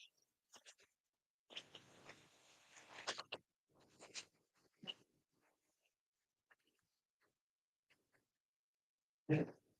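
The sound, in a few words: shuffling tarot cards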